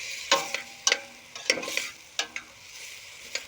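Onions and celery sweating in a pot over a camp-style fire, a soft sizzle punctuated by the scrape and clink of a spoon stirring, several distinct stirring strokes, quiet and close, with no talking.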